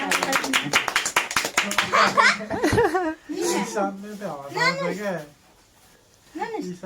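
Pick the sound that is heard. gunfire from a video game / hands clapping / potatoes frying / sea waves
hands clapping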